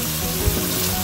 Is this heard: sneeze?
no